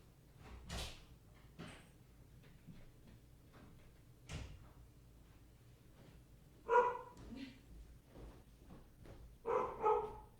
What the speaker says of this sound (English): Muffled barking from upstairs.